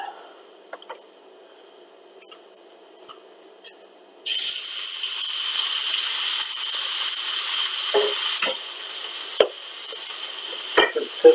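Flank steak laid into grapeseed oil heated to its smoke point, bursting into a loud, steady hiss of sizzling that holds constant with sharp pops and spits, after a few seconds of quiet kitchen sounds.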